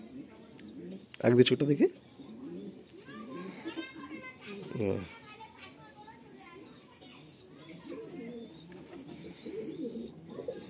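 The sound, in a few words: pigeons cooing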